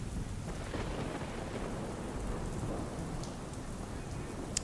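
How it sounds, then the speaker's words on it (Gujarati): Heavy rain pours down steadily in Idar, Sabarkantha district, Gujarat, a dense continuous roar with a low rumble underneath and no voices. "તો સાબરકાંઠા જિલ્લામાં ધોધમાર વરસાદ વરસી રહ્યો છે"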